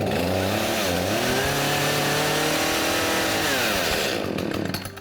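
A flooded chainsaw's engine roars loud and close for several seconds, its pitch dropping and climbing again as it revs, then it cuts out abruptly near the end. No one talks.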